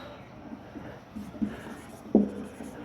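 A pen writes out the answer to a Class 10 trigonometry problem on complementary angles, giving faint, close scratching with a couple of brief louder taps in a quiet room.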